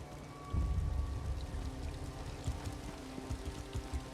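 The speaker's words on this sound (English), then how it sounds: "Let's get in out of the rain, shall we?" Steady rain pouring in The Elder Scrolls Online, a soft continuous hiss with some low rumbling beneath, heard alone without voices.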